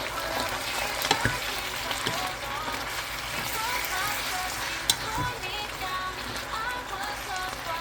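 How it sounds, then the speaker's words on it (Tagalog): Corn is added to a hot frying pan and stirred, producing a steady loud sizzle with occasional scrapes and clinks of a utensil against the pan, continuous throughout. "lagyan natin ng corn Tapos haluin."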